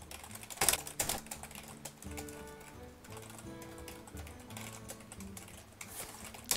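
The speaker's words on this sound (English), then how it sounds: "I'm just attending to typing and stuff" Quiet, close computer keyboard typing, with a steady patter of light key clicks and a few louder strokes, under faint background music.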